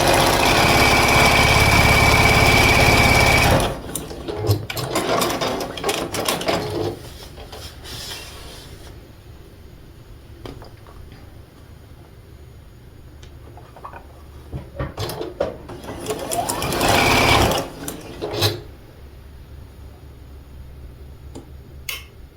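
A sewing machine runs a quarter-inch seam along the edges of scrappy quilt fabric pieces, buzzing in a fast, steady chatter for a few seconds, falling quiet, then stitching again in a second short burst.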